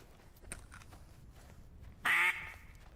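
Ducks quacking in a hunting video game near a pond: a loud burst of nasal quacks about two seconds in, over a steady low ambient hum with fainter calls earlier.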